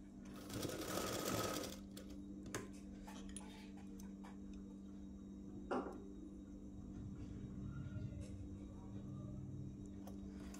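Sewing machine stitching around a folded quarter-inch collar strip, a steady continuous whir with a brief louder burst near the start, plus a few clicks and taps, heard close and alone.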